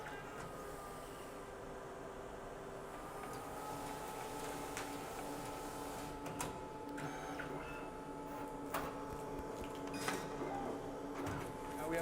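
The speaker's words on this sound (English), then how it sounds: "you should have a label printing out of your printer" An Epson ColorWorks CW-8000 label printer whirs steadily with a constant mechanical hum, and faint clicks and ticks come and go as labels feed through.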